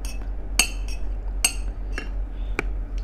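A knife scrapes and clinks against a plate while cutting tough grilled squid, about six sharp metallic taps spread irregularly over a low steady hum, with no talking.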